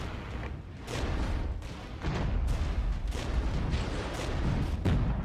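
Artillery barrage in the video game Regiments: a rapid series of heavy booms and distant blasts rolling one after another, dense and rumbling, with no talk over it.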